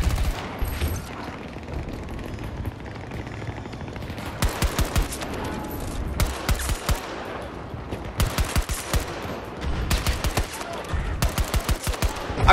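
Rapid bursts of pistol gunfire in Battlefield 2042, loud and repeated in several clustered volleys across the clip over constant game background noise, with occasional voices.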